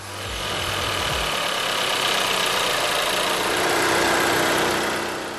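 An Audi 1.8-litre, 132-kilowatt gas engine runs close by with a steady, dense mechanical drone that swells slightly partway through and holds loud throughout.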